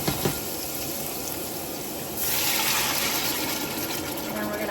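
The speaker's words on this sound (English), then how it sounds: "we're going to wash each one out with water and add the water." Water runs steadily into empty tomato cans as they are rinsed out in a home kitchen, a continuous splashing gush that grows louder and fuller partway through.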